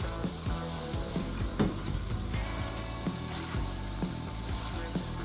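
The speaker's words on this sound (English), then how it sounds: "I'm just going to grab a spatula to turn and move this with" Shrimp cook in sauce with a steady loud sizzle while a spatula scrapes and stirs the pan in repeated strokes, with no talking.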